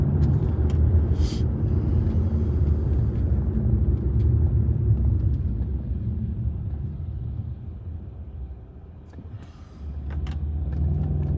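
2012 Mercedes E63 AMG wagon driving in rain, a low steady engine and road rumble heard from inside the cabin, easing off partway, with small clicks and a brief whoosh near the end.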